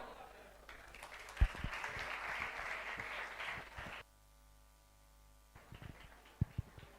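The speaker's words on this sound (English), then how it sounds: "a round of applause for the next solo song" Audience applause at an annual graduation ceremony, a moderate wash of clapping with a few sharp close claps that cuts off abruptly into near silence with a faint hum, then resumes with scattered claps.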